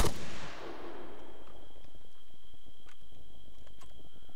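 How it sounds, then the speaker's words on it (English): A firing squad volley goes off in a video game, one loud blast at the start that decays into a rumbling tail, followed by faint scattered clicks and background noise. "Firing squad, ready! Up your guns. Aim! Let's have it, come on lads, let's have it. Let's fire!"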